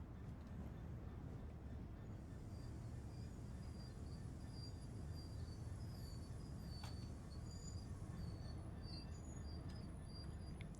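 A steady low rumble of a freight train braking to a stop in Train Sim World's Great Western Express, with faint high metallic squeals and hissing brake tones, heard at a distance under a constant mechanical drone.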